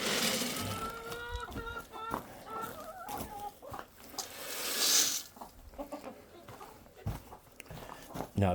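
Two black hens cluck on a farm during Friday chores, with repeated short clucks close by alongside footsteps, and a person talks in between.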